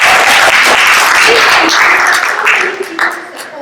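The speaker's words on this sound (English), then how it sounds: "Give yourselves an applause." A class applauding together after a demonstration, a dense burst of clapping that fills the first seconds and then thins out, with a voice speaking over the tail.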